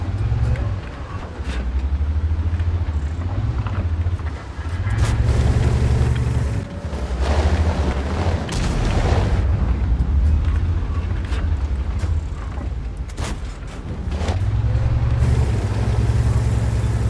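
Heavy tank engines rumble and rev in a tank video game featuring the American M6, with low droning surges rising and falling in waves alongside clanks and booms.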